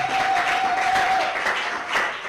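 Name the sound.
congregation applauding after a scripture reading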